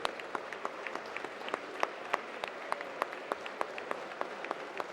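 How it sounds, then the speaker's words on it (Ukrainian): Applause in the Ukrainian parliament for the military, a fairly distant, even patter of many hands clapping with sharp individual claps standing out. "Давайте оплесками привітаємо наших військових"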